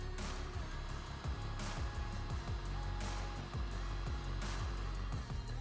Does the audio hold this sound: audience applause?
no